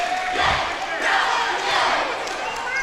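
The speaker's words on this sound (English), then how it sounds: "Chant of Go Bronx Go begins for the UTPA crowd." Basketball crowd at a UTPA versus Kansas City game chanting in rhythmic waves of massed voices, loud and reverberant in an arena, rising and falling about twice.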